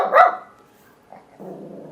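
A pet dog gives a loud, sharp bark up close, followed by quieter muffled rustling and background noise, with no talking.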